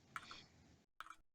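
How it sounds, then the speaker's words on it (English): Keyboard typing picked up faintly: a quick flurry of light clicks, a brief pause, then another short burst of clacks, with no talking. "that's me typing"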